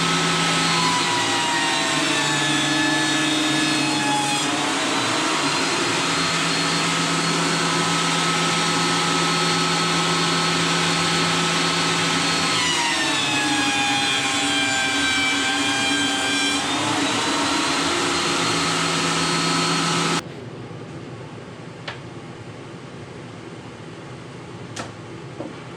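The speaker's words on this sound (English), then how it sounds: "I'm planing here to get everything the same thickness." A wood planer feeds boards down to even thickness, a loud continuous motor whine with rising and falling pitch as each board passes through, several passes over twenty seconds before it stops and a quiet room remains.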